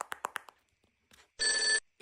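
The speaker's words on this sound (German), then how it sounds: "da muss ich gleich die Susanne anrufen." A telephone rings in one short electronic burst, fairly close and clear, following a few brief vocal sounds and a pause.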